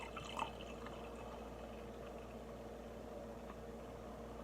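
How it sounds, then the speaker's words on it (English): Dogfish Head Raison D'Extra beer is poured hard straight down the middle of a glass, giving a faint, soft splash of liquid with a small bump near the start. "I'm going to go give you a hard pour, just straight down the middle, to see if I can get any head on this"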